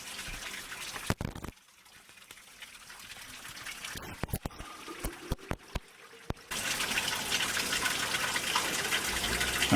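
Cold spring water pouring from a pipe in a Canyonlands canyon, a broad splashing rush that is interrupted by clattering handling noises midway, then returns louder and steady.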